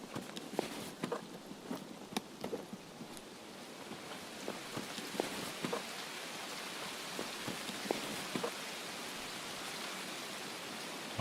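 Rain in the game Escape from Tarkov hisses as a steady broadband wash, sprinkled with sharp drips and taps landing on nearby surfaces at irregular moments.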